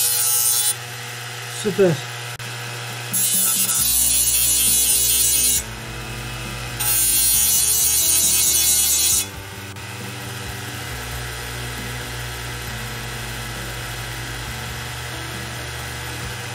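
A small hard disk drive motor used as a sander hums steadily while two loud, harsh grinding bursts of sharpening ring out, and a voice speaks briefly.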